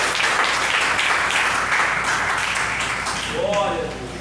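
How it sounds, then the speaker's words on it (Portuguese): A church congregation claps together in sustained, dense applause that holds steady for several seconds, loud and close, with voices mixed in beneath and a brief sung or spoken tone near the end. "Desocupando as mãos e batendo uma linda salva de palmas para Jesus."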